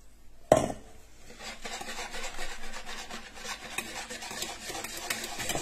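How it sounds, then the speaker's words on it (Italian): Flour and baking powder sifted through a sieve into cake batter with lemon juice and zest, a steady scratchy rubbing rasp that starts with a sharp tap and continues close and unbroken. "Setaccio la farina e il lievito e l'aggiungo al composto."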